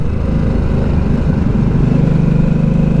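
A Harley-Davidson Nightster motorcycle engine under throttle in sport mode gives a close, steady, loud low rumble throughout, with no talking.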